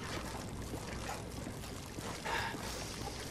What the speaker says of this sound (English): Pick up the gas can, pour gasoline.